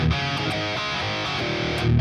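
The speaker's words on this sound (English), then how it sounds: "That's a Paul Reed Smith MT-15 Mark Tremonti model." An electric guitar played through a Tonex model of a Paul Reed Smith MT-15 Mark Tremonti amp, a brief loud passage of distorted chords and notes with a dense sustained tone, with no talking.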